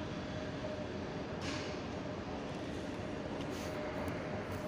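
A train pulling into a station platform, a steady broad rumble of wheels and rail noise throughout, fairly loud and continuous, with a couple of brief hissing swells.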